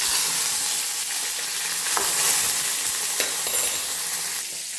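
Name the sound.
mustard seeds, urad dal, dried chilli and curry leaves sizzling in tempering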